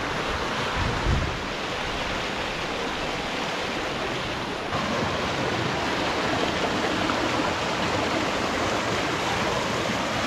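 The Shetugo River at Kuje flows steadily with clean, cold water, producing a loud, continuous broadband rush of moving water that fills the whole scene without pause.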